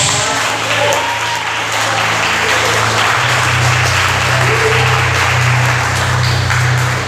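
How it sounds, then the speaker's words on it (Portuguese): A church congregation applauding during a sermon, a loud continuous wash of many hands clapping, with a sustained low instrumental tone and faint voices beneath it. "Aplauda os céus."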